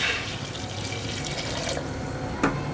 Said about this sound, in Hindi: अब इसमें हम गरम पानी डालेंगे बॉईल करने के लिए